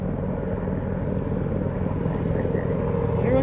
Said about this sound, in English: And this plane is a big ass plane.